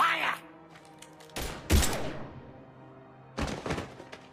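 Gunfire and heavy impacts in the Mass Effect 3 video game come in a few sharp bursts separated by quieter stretches, with a brief voice and game ambience in between.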